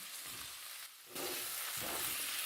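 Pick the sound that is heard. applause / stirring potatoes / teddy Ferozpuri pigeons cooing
stirring potatoes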